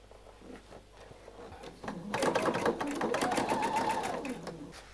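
A sewing machine stitches a dress seam, starting faintly and then running in a steady fast rapid clatter up close for a few seconds.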